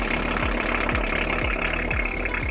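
Neglected VW T4 campervan engine idling close by, with a steady low rumble and a regular rhythmic pulse or knock about twice a second.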